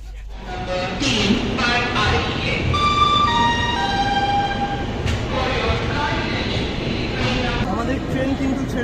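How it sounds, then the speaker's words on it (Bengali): The 12551 SMVT Bengaluru–Kamakhya AC Express pulls out of SMVT Bengaluru station with a steady rolling rumble, long sustained horn tones rising over it and intermittent clanks; voices are faintly audible in the background. "ট্রেন কিন্তু ছেড়ে দিয়েছে এসএমবিটি বেঙ্গালুরু রেলওয়ে স্টেশন থেকে।"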